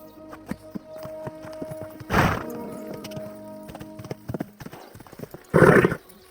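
Horse hooves clip-clop in an uneven walking rhythm in the video game Kingdom Come: Deliverance II, with a couple of louder snorting bursts standing out over the steps.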